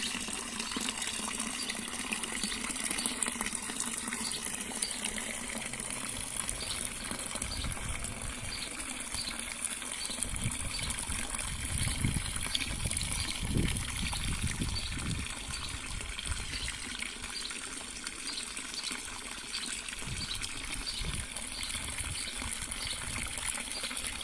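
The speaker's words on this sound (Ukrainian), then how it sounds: "як говорять, що одна із речей, на яку люблять дивитися, це як біжить вода." A city fountain pours water in a steady, full rush that carries on without a break, heard from nearby outdoors.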